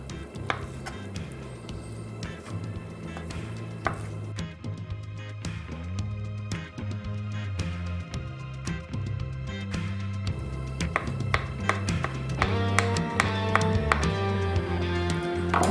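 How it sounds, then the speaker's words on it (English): A knife cuts eggs for a Polish royal salad on a cutting board, giving a quiet, irregular series of close taps and chops over about sixteen seconds with no talking. "Next, I will cut eggs."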